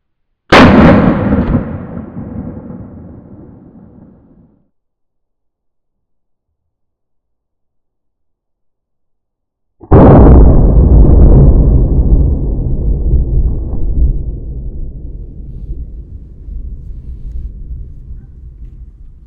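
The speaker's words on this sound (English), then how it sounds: "I'm just going to shoot into that berm below my backstop there" Two loud, close gunshots from .45 Colt rounds fired through a .460-chambered Taurus Raging Hunter revolver into an earth berm outdoors, each a sharp crack with a long rolling echo, spaced several seconds apart.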